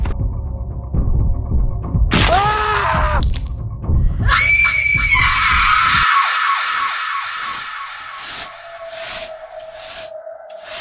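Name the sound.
scream in a horror story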